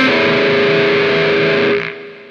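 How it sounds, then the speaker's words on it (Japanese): An electric guitar with heavy distortion rings in a sustained chord as the whammy bar wobbles the pitch, loud and dense, then cuts off sharply as a noise gate closes near the end, leaving a faint hiss. "アームはね、こう揺らすとね、他の弦まで全部伸縮しますので、弦が全部鳴っちゃうんですよね。"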